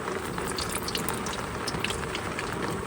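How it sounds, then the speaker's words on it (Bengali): Mustard oil poured into a hot wok, a dense crackling, bubbling hiss that runs steadily and close for a few seconds before stopping abruptly. "কড়াই গরম হয়েছে এবার দিয়ে দেবো সর্ষের তেল"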